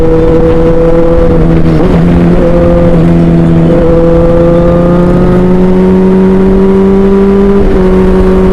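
A big touring motorcycle engine runs under light throttle while riding, giving a loud, close, continuous droning rumble with gently shifting pitch and brief dips.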